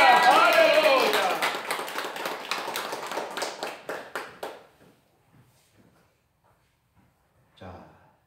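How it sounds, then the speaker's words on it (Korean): A church congregation at a Sunday Easter service claps loudly with a voice ringing over it at first, then the clapping breaks into separate sharp claps that slow and die away into near silence, with a brief murmur at the end. "우리 부활의 주님께 박수 영광"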